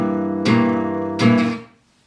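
Two strummed acoustic guitar chords in a Django-style minor blues rhythm, each left ringing with a long sustained decay instead of being choked off, then silence.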